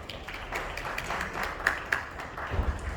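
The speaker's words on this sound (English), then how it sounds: "Let's welcome her with a huge round of applause." Clapping from a conference audience welcoming a sales manager to present, a moderate, fairly distant patter of hands with a few sharper claps, sustained for a few seconds.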